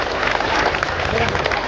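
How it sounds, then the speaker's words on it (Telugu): An audience claps loudly at a children's cultural program with a welcome dance. The dense applause continues for the whole stretch, with some crowd voices in the mix. "గట్టిగా చప్పట్లు కొట్టాలి."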